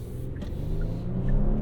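A 2023 Genesis GV80 with a 3.5-liter twin-turbo V6 accelerating, heard from inside the cabin as a steady engine drone that rises in pitch and grows slightly louder.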